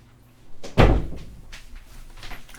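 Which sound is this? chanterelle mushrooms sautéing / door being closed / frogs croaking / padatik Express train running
door being closed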